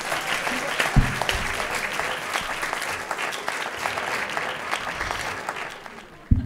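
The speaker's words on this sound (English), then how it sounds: "Give her a nice round of applause." An audience at a magic lounge in Chicago claps in a warm, steady round of applause that fades toward the end, with a voice briefly heard beneath it.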